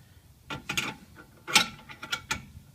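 Brake caliper piston tool on a rear brake of a Kia Spectra5 turned under heavy pressure, giving several short metallic clicks and ratcheting creaks in uneven bursts, close and fairly quiet.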